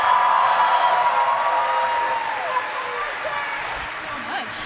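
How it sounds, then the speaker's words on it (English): An audience at a cosplay contest applauds and cheers, a crowd of clapping hands with whoops and raised voices that starts loud and slowly tapers, heard at some distance in a large room. "Let's make a huge round of applause for Brie Doof as Massacre"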